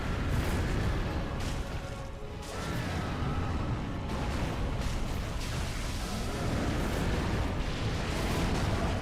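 An explosion in the video game Dark Souls 3 during a Demon Prince boss fight, a loud sustained roaring blast with rumbling that fills the whole stretch.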